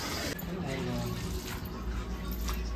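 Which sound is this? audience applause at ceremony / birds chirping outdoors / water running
water running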